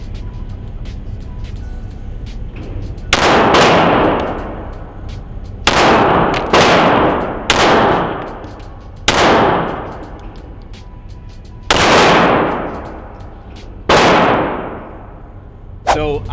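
Glock 48 pistol fired at a range, seven sharp loud shots spaced a second or two apart with ringing decay after each, close to the microphone and without talking.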